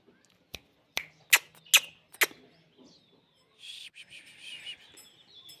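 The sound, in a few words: pigeon calling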